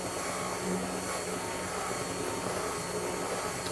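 A stick blender whirs steadily through a batch of foaming bath butter, a dense, constant motor drone with airy hiss that stays close and loud with no break.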